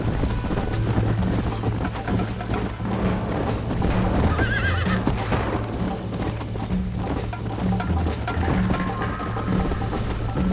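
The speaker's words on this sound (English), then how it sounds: "I think you chose the wrong horse, Miss McFarland." Loud, continuous galloping hoofbeats with a horse whinnying partway through, dense and driving like a race, from the video game Red Dead Redemption.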